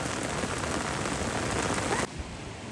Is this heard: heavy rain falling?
yes